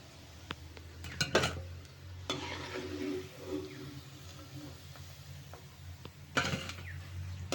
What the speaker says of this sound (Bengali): তেল দিয়ে নিচ্ছি মাছগুলো ফ্রাই করার জন্য। এগুলো ফ্রাই করতে দিয়ে দিচ্ছি।